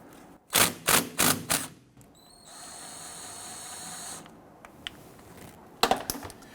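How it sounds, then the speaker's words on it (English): A 12mm bolt on the brake caliper of a Nissan Frontier being loosened with a ratchet, four sharp quick clicks, then a steady whirring tone with faint taps and a few final clicks near the end. "We have a 12mm bolt here. Let's go ahead and loosen that and remove it."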